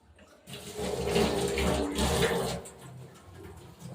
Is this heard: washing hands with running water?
yes